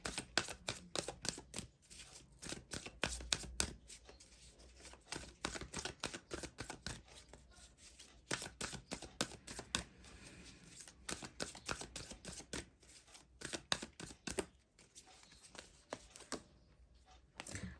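Tarot card deck is shuffled by hand up close, giving rapid bursts of crisp riffling and flicking cards in irregular rhythm, quiet and without talk.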